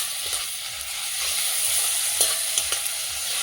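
Ginger-garlic paste fries with browned onions in a hot pan, a continuous close sizzle with a few stirring scrapes and clicks toward the end, no voices.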